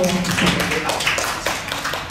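An audience at a school event claps for a young singer, a dense patter of hands with a faint voice and tones running underneath.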